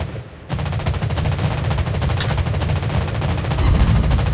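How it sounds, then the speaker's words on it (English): Sustained anti-aircraft gunfire from a Tier 8 U.K. cruiser, the Albemarle, in World of Warships Blitz: rapid, dense bursts of booming shots with a steady low rumble, starting abruptly after a brief quiet moment and growing slightly louder toward the end. "Anti-aircraft gun on full alert."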